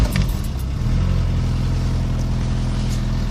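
An Opel Frontera engine starts: a brief cranking clatter, then the motor catches and settles into a loud, steady low idle, heard close and alone without talk.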